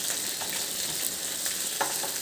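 Fish pieces coated in masala sizzle and crackle in hot oil in a pan, a steady frying hiss with occasional small pops and spits, no talking.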